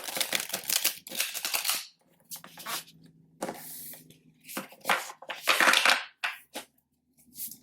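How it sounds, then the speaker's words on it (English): A deck of tarot cards is shuffled by hand in quick riffling and sliding bursts, soft papery flutters broken by short pauses, close and fairly quiet, with no talk. "I'm going to just go ahead and shuffle these really quick."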